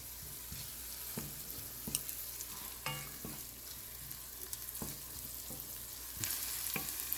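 Green chilies sautéing with turmeric in a pan, a soft continuous sizzle broken by scraping spatula strokes at irregular intervals, fairly quiet and close, with no speech.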